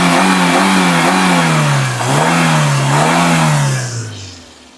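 A Maruti Suzuki WagonR engine is revved with the bonnet open, loud and close, rising and falling in several throttle blips before settling back down toward idle.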